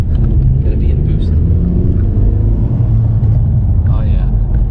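A 2020 Honda Civic Si fitted with a PRL Cobra cold air intake drives along, giving a loud, steady low engine rumble with intake rush throughout, while people talk over it inside the car.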